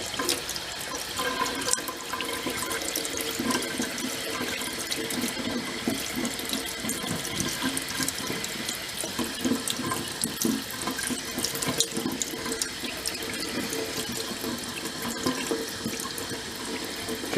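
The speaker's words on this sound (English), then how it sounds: "So what I'll do is start pouring, but then I'm going to aim some water at the back to try and get it to run clear." Tap water runs steadily into a bowl of rice being rinsed, a continuous splashing hiss at moderate volume with no voices.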